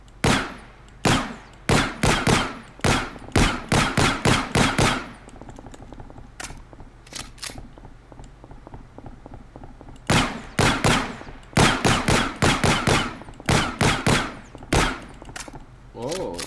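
Pistol shots in a video game fire in rapid volleys, loud and punchy, with a lull midway before another burst of repeated shots, with occasional talk in between.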